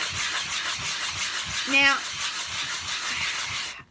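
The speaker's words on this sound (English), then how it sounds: "So I start sanding and I sand both sides." Wooden buttons cut from yard branches are sanded by hand with quick, even back-and-forth scraping strokes. A voice speaks briefly partway through.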